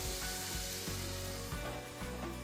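Cauliflower pieces with a pinch of turmeric cooking in a covered pan over a low flame, a soft, steady sizzle with faint periodic pops, quiet and continuous.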